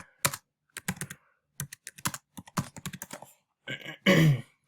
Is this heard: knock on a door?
no